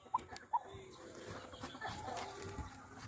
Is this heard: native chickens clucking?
yes